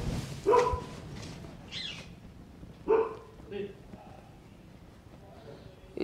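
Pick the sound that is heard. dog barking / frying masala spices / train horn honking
dog barking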